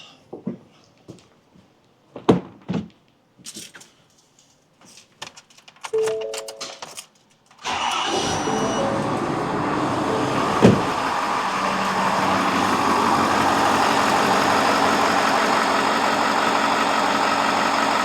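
A 2021 Ford Super Duty truck engine cranks and fires, then settles into a loud, steady idle that runs to the end. Scattered clicks and knocks come before the start, with no talking.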